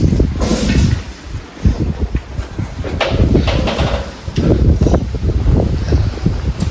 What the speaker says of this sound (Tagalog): Walang makita guys, pero sobrang lakas ng hangin